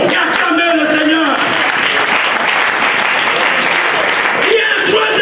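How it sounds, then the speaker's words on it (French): Church congregation applauding steadily and loudly throughout, a dense wash of clapping with voices mixed in. "Au nom de Jésus, recevez le peuple de Dieu et acclamez le Seigneur."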